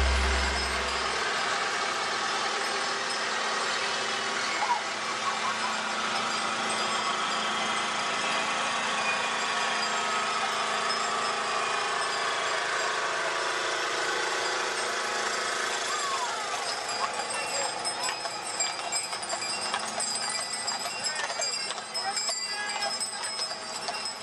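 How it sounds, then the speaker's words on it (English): Decorated farm tractors and other farm equipment drive past in a Festival of Lights parade, a loud continuous rattling engine drone throughout, with faint voices in the crowd. "The farmers decorate their tractors and other farm equipment and drive through the area"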